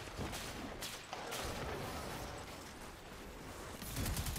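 Gunfire in the shooter video game Vanguard: rapid bursts of shots and booming blasts overlapping continuously, loud and dense with no talk over them.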